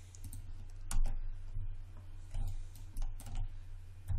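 Keys on a computer keyboard are pressed during 3D modeling work, a few sharp separate clicks over a low steady hum.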